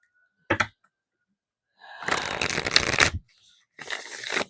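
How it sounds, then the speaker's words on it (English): A deck of tarot cards riffled and shuffled by hand at close range, in three bursts: a short flick, then a longer riffle, then another shuffle, with silence between. "let me go ahead and get you some cards from this deck here"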